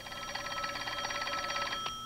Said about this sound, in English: Seymour, answer the phone.